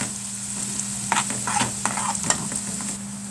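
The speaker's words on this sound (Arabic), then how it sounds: "البصله اهي يا دوبك خدت لون، هحط عليها معلقه التوم دي" Onion and garlic fry in a pan with a constant close sizzle, broken by a few sharp scraping stirs in the middle, with a low steady hum underneath and no talk.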